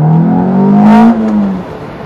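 A Lotus Elise sports car engine revs up sharply and falls away in one loud, close burst lasting about two seconds.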